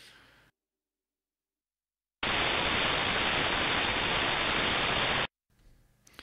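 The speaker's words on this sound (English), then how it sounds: "there's some white noise. Just kind of gives a feel like the radio's gone dead" A burst of loud, steady radio static hisses for about three seconds, cut off abruptly on both sides by silence.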